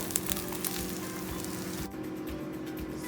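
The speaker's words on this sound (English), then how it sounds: "I'm going to flip it over and let the other side also get brown." Breakfast quesadilla sizzling steadily in a hot pan after being flipped, a continuous close frying hiss with a brief soft knock partway through and no voices.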